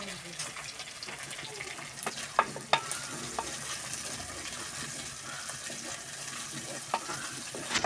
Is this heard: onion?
yes